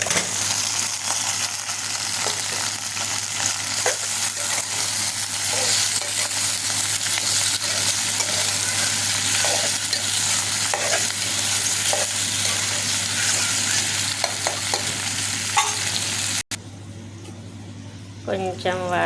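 Pasta frying and being stirred in a pan with onion and green chilli tempering, a steady close sizzle running nearly throughout with scattered scraping clicks, cutting out near the end.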